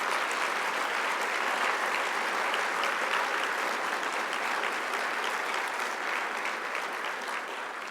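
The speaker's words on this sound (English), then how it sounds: "Please give him a special round of applause for that extraordinary accomplishment." An award dinner audience claps in a full, sustained round of applause that stays loud and even from start to finish, with no speech on top.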